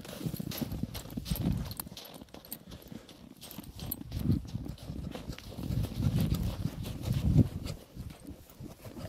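A young English-breed horse walks outdoors, its hooves clip-clopping in a steady, uneven rhythm at close range, rising and falling in loudness with no voices over it.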